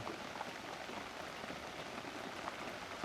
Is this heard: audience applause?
no